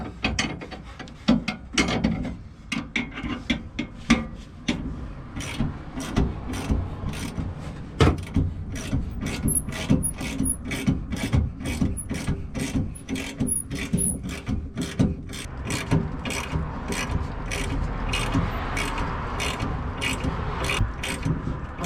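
Wrenches tightening the bolts of a Roadmaster Active Suspension on a 2021 Ford F150 leaf spring, making a long, steady run of close, rapid metallic ratchet clicks that continues throughout.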